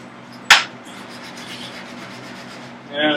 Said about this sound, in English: just sanding it down lightly so that it'll slide in and out